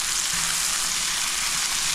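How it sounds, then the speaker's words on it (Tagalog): Mushrooms sauté in a pan with a soft, even sizzle and crackle, held at a moderate level for a couple of seconds with no one talking. "So, igisa na po natin ito."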